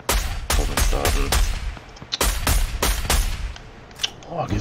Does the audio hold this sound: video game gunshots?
yes